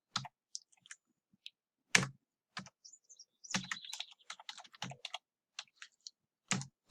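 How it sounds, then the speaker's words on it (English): Typing on a computer keyboard: sparse, crisp key clicks in irregular bursts, close and fairly quiet, with short pauses between groups of keystrokes. "So then I need to just type my name"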